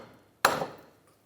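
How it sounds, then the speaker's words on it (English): A single sharp metallic tap from a hammer striking the wheel hub of a 2004-2009 Toyota Prius, ringing briefly before fading into quiet. "I'm just taking a hammer,"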